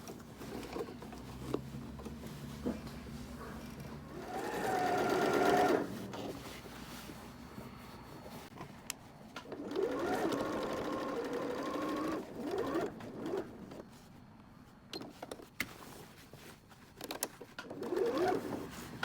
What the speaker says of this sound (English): So I'm just going to work the machine in here.